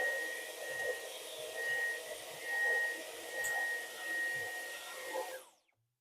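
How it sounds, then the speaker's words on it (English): Vacuum cleaner sucking caked cat hair and dust out of a clogged electric fireplace vent, a steady close whine with a faint high tone that rises and falls for about five seconds before cutting off abruptly. "we're just going to vacuum that all out and get the blockage gone"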